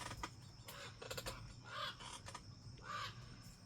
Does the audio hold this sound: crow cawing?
yes